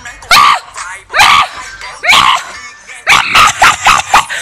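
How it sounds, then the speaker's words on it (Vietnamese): A dog in the Brawl Stars video game gives a loud run of sharp barks and yips in short bursts, about seven or eight in all. "Con chó đó."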